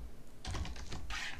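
Computer keyboard typing, a quick burst of close, crisp key clicks running about a second, with no speech.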